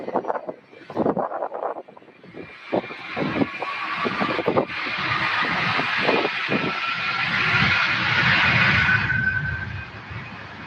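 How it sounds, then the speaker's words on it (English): A heavy jet climbs out of SDF airport at Louisville on a long-haul departure to Honolulu, its engines building from a broken rumble into a loud, sustained roar with a whining tone that holds steady, with no talk over it. "There she goes, bound for Honolulu."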